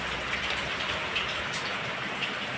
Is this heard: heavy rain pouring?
yes